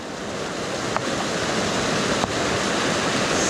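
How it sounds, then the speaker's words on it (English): Waterfalls running down a canyon after a rainstorm, a steady broadband rushing roar of falling water, loud and continuous with a couple of faint clicks. "Double, triple waterfalls."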